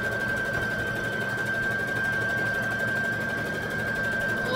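A sewing machine stitching a wrap skirt runs in a steady, even, rapid hum and clatter, close and unbroken throughout, with no voices.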